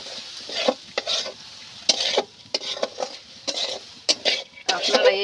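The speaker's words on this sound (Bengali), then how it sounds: "লবণ, হলুদ, লঙ্কা এবার আমি ভালো মতো করে কষিয়ে নেব" Red lentils with drumstick leaves, salt, turmeric and chili fry in a pan while a spatula scrapes and stirs, giving repeated sharp metallic scraping strokes over a light sizzle.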